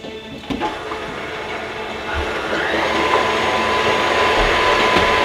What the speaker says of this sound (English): She's got the mixer going,